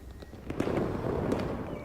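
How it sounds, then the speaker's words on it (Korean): Fireworks bursting in a video game, a dense run of crackling pops and booms that fill the whole stretch fairly steadily, with no talk over them. "폭죽놀이를 하네"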